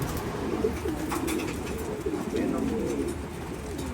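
Pigeons coo repeatedly in soft, rolling phrases close by, over a steady background hiss, with faint chirps in the distance.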